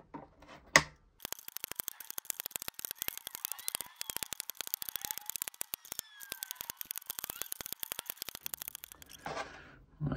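Side cutters snip the wire legs of LEDs during a Hexaputer build, giving a long, fast run of sharp, close clicks that keep a steady rhythm for about eight seconds, with a little handling noise before and after.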